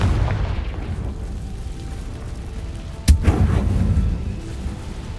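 A Confringo fire spell from the video game Hogwarts Legacy bursts as a single sharp, loud boom about midway, over a steady low game rumble and ambient hum.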